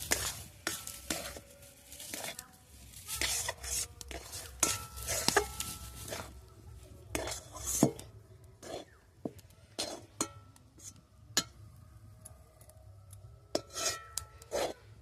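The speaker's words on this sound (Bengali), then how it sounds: "চালের গুঁড়োটা ভালো করে জলের সঙ্গে মিশিয়ে দেব।" Rice flour being stirred into hot water in a pot for chusi pitha, heard as soft repeated scraping and rubbing strokes with occasional light clinks over a low steady hum, fairly quiet and with no speech.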